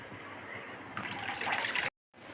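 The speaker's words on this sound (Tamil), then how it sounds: "அதில் ஒரு நெல்லிக்காய் சைஸ் அளவு புளி கரைச்சி அதில் ஊற்றணும்." Tamarind water poured into strained mint juice for pani puri, a steady liquid trickle and splash that swells near the end, then stops abruptly before a brief resumption.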